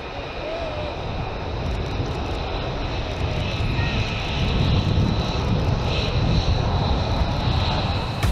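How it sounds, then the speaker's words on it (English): A US stealth fighter jet taxis toward the runway for takeoff during an Air Force combat exercise, its engine giving a steady, loud whine and roar that swells slightly louder partway through and carries on without any speech over it. "The pilot takes a final look at the aircraft's exterior, hops into the cockpit, and taxi towards the runway for takeoff"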